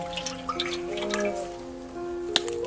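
Water runs and drips while skinned rat meat is washed, light irregular splashes and a sharp drop over a steady tonal hum, close and without talk.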